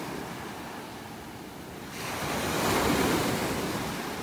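Surf on a beach in North Naples, Florida: a gentle background wash swells into a louder breaking wave about halfway through, then rolls on in a sustained rushing hiss, with no voices.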